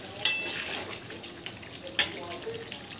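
Meat sautéed in oil in a pan gives a soft, continuous sizzle, broken by two sharp scraping clinks of a spatula about two seconds apart.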